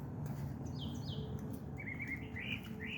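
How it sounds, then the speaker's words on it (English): Birds singing and chirping outdoors as it grows dark, with several clear whistled and tweeting calls over a steady background hum, fairly distant and moderately faint, no talk. "Birds singing and chirping."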